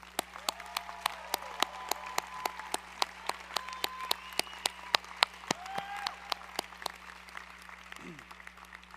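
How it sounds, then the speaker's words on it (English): A commencement audience at SMU applauds, heard as sparse, distinct claps spread across the hall rather than a dense roar, with a faint voice and a low hum underneath. "let's take a quick second to give a huge round of applause to our loved ones"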